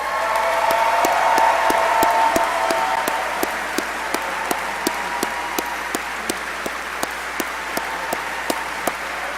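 A university convocation audience applauds an award winner with a steady wash of clapping that fills the hall, and a few sharp, distinct claps punctuate the sustained ovation as it slowly thins out.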